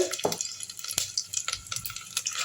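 Black pepper, cumin and a piece of ginger crackle in ghee in a cooker, with soft sizzling and several sharp clinks of a spoon stirring against the metal pot.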